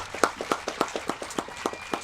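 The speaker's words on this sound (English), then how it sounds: "Please join us in another round of applause for these dedicated educators." Applause from the audience at an educators' awards ceremony honoring elementary school teachers of the year: a string of crisp, evenly spaced claps, about four per second, moderately loud with no talk over them.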